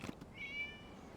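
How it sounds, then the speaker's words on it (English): A cat in the Genshin Impact video game lets out a single drawn-out meow, clear and fairly close, following a couple of brief soft sounds, with quiet ambience after. "It was just a cat."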